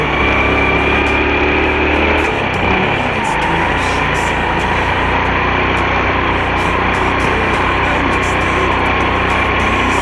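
A vehicle engine runs steadily throughout a road test, a continuous loud drone with a high whine and low rumble that shifts slightly around the second mark.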